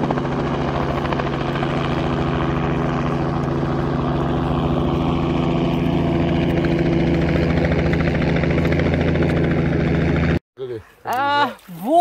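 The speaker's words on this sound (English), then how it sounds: "A helicopter is fucking just right on the water here." A helicopter flies low over the sea, its loud steady rotor thump and engine drone close by before cutting off abruptly. A voice is heard briefly afterward.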